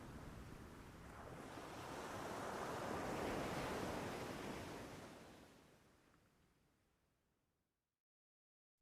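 Sea waves and surf rumbling and hissing at the foot of a cliff in a radio drama, a broad wash of water that swells, peaks midway, then fades away to near silence.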